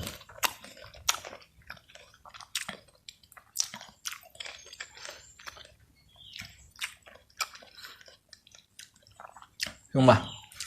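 A crisp water apple (jambu air) of a new 2023 variety being bitten and chewed up close, with repeated crunchy bites and wet munching, then one loud, juicy crunch near the end.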